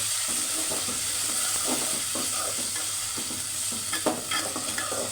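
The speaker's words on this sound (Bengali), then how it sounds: "পেঁয়াজ মরিচ ভাজা হয়ে গেছে এখন আদার বাটা রসুন বাটা একসাথে দিয়ে দিল" Ginger and garlic paste frying in a pan with onions and chillies, a constant hissing sizzle under rhythmic scraping strokes of a stirring spoon, close and with no talk.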